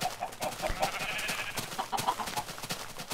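Chickens in the video game Minecraft cluck repeatedly in quick, overlapping short calls, with a bleating sheep mixed into the flock noise.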